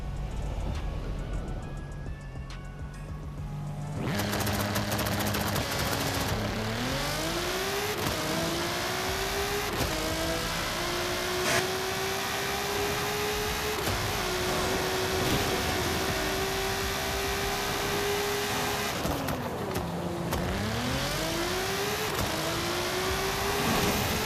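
Forzberg Ultimaniac from Forza Horizon 5 accelerating hard, its engine note climbing through a string of upshifts with brief dips between gears, loud and close, after a few seconds of quieter engine idle.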